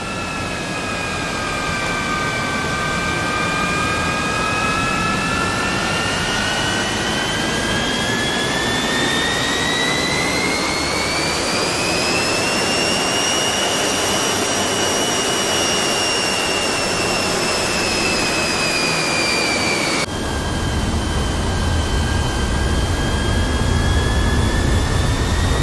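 MiG-15bis jet engine in the DCS flight simulator, heard from outside the aircraft: a steady, loud turbine roar with a rising and falling whine throughout, shifting abruptly near the end.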